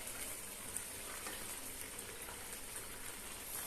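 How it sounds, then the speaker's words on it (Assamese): A pot of khar made with papaya, chickpeas and green chillies simmers at a soft, steady boil, a faint continuous bubbling hiss with no talking. "ধুনীয়াকৈ উতলি আছে"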